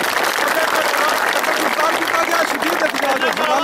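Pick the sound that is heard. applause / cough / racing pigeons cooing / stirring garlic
applause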